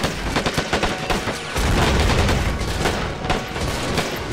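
Dense rattling gunfire from the strategy war game Men of War, with soldiers battling over an airfield: rapid overlapping bursts and a sustained heavier volley in the middle, loud and continuous with no talking.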